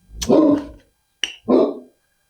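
A house dog lets out two loud barks close by, the first a longer, fuller woof and the second following after a sharp yelp, with silence in between and afterward.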